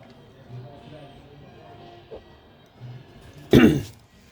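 A single sharp, loud cough from someone with a cold breaks out near the end, close to the microphone, after quiet background murmur.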